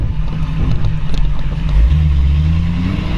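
A 1932 Ford Tudor sedan resto-rod drives on a damp road, its engine rumbling loudly up close, with a steady low drone that rises as it accelerates partway through.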